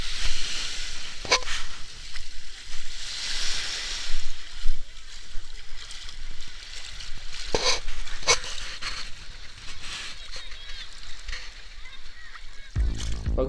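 Muffled underwater sea sounds while diving off a beach in Berdyansk: a dull, steady rush and wash with occasional sharp splashes and bubbly bursts, close and enveloping, with no speech.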